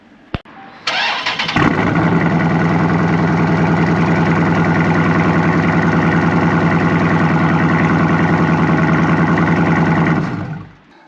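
A Dodge SRT's 6.4-litre V8, fitted with an LPG conversion, cranks and fires up, then settles into a loud, steady, deep rumbling idle that holds before cutting off at the end.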